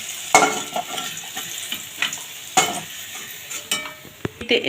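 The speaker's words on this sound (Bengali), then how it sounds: "এই তেলের মধ্যে এবার বেগুনটা ভেজে নেব" Vegetables for Bengali shukto sizzling in hot oil, a continuous close crackle broken by several sharp spatula scrapes and clinks against the pan, with no voices.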